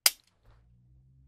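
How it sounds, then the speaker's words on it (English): A single sharp metallic clack from a Savage .308 pistol's trigger and action, loud and close, followed by a faint softer mechanical click and low hum. "I'm gonna pull the trigger, push that in. Well, we're cocked."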